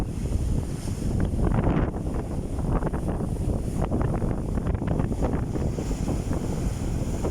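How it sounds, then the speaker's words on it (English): Strong wind buffets the microphone on a beach with foamy surf during a fishing trip, a loud continuous gusting roar mixed with crashing waves throughout, with no speech. "There's a very strong wind."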